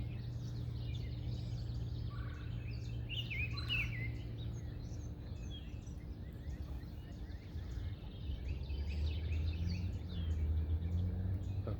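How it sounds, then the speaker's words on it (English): An orchard oriole sings outdoors, a string of quick, varied whistled phrases at moderate distance over a low steady hum, with faint chirps continuing afterward. "the orchard oriole just gave a song to the left"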